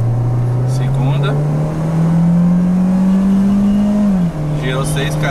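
Citroën C4 Lounge engine revving steadily upward to high rpm from inside the cabin, loud and close, then a brief drop as the gear shifts before the tone settles and continues.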